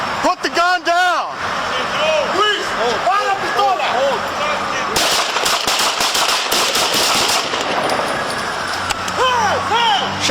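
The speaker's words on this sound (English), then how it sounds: "Shots fired, shots fired." Police bodycam gunfire in a confrontation with a rifle-armed man: sharp, loud shots in a rapid burst amid shouting officers and a siren-like wail, with heavy background noise throughout.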